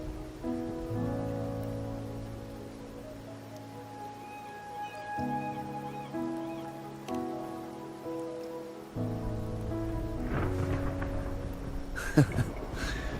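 Rain falls in the Wuthering Waves video game as a soft, steady patter beneath gentle sustained music chords.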